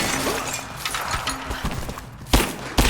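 Gunfire in the video game Rise of the Tomb Raider, a few sharp shots with crackling impacts, the loudest two near the end, over busy game ambience without talking.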